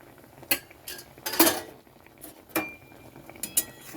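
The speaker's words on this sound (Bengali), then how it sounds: "এখন আমি চাপাটা নামিয়ে নিচ্ছি" A metal lid comes off a pan of fish roe curry cooked with mustard paste, giving a few sharp clanks and scrapes of metal on metal, close and fairly loud, with quiet gaps between them.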